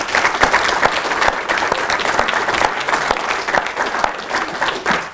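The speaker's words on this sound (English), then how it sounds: "we perhaps could give him another round of applause for his lecture" A hall audience at a professorial inauguration ceremony applauds after a lecture, sustained close clapping from many people with individual sharp claps standing out in the dense wash.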